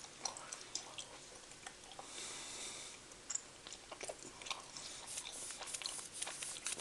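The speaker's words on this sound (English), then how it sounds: "It's kind of hard to chew as well." Someone chews hard Swedish candy close to the mouth, giving faint, irregular crunching and clicking bites with small wet ticks spread through several seconds and no talking.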